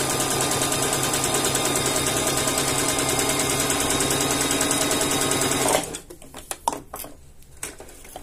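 Sewing machine stitching two layers of plastic, a loud continuous rapid mechanical whir for about six seconds, then stopping, followed by a few faint clicks and handling noises.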